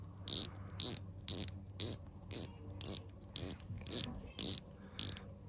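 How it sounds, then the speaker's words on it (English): Dive watch bezel with 120-click bidirectional action being turned, a run of about ten crisp metallic clicks in quick, even succession, close and clear over near silence. "We have a really nice bezel with a really nice bezel action and clicks."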